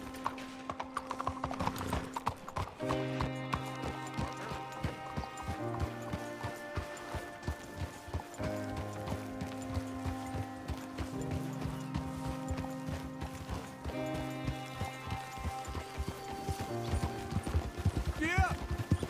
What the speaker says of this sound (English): You got a horse? Get on it.